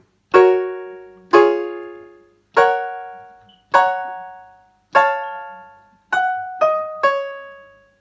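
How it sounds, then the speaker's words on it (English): Eight notes of a cheap electronic keyboard's default piano sound, each struck cleanly and left to decay, the last three played quicker in succession. "this is the default piano sound you get"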